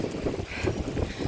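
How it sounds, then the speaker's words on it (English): Wind gusts blow outdoors, rushing and buffeting the microphone in uneven surges across a brief stretch, with no one talking. "Oh, it's getting real windy now."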